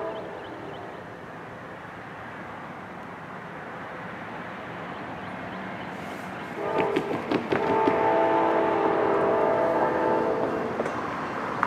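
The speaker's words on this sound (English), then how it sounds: "With a solid K5 LA horn on the lead, she sounded good coming through town on this beautiful but cold day." An Amtrak GE P42DC Genesis locomotive with a K5LA horn passes through town on a cold day, its low rumble building before loud, sustained multi-tone horn blasts sound close by over the rolling rail noise.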